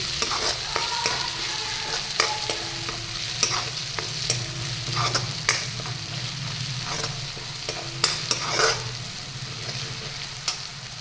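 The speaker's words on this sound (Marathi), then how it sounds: "कोथिंबीर फोडणीला दिली की त्याची चव खूप भन्नाट लागते." Fresh coriander and curry leaves hiss in a hot oil tempering for masoor dal, sizzling steadily under repeated spatula scrapes and stirs in the pan, close and with no voices.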